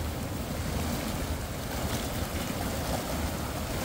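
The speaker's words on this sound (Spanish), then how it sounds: "por aquí viene pasando el agua" River water, somewhat turbid, flows beneath a bridge near where the river begins to empty into Lake Texcoco, a constant dense roar of rushing water with gusty wind buffeting the microphone.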